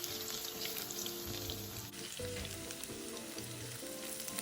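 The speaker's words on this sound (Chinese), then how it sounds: "油熱後，再將備好的馬鈴薯倒入" Potatoes frying in hot cooking oil over medium heat, a soft continuous sizzle with faint crackles and light clatter, heard alone without talk.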